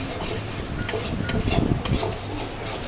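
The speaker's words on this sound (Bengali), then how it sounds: "এরপর মশলাটা আমি সুন্দর করে কষিয়ে নিব" Spice paste of ground coriander, cumin, turmeric and salt frying in mustard oil, a steady sizzle with rubbing spatula scrapes and light clinks against the pan as it is stirred, close and fairly loud, no voices.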